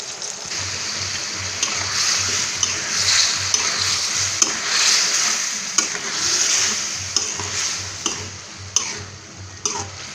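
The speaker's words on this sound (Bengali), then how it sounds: "তো আমি এবারে মাংসটাকে কষিয়ে নেব পানি দেব না এখন" Mutton for biryani sautéing in oil and ghee in a pot, a steady close sizzle with periodic scraping stirs and light clinks throughout, no talk.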